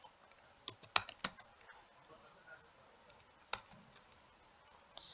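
Typing on a computer keyboard, with a quick cluster of close key clicks early on followed by a few scattered taps over a quiet background.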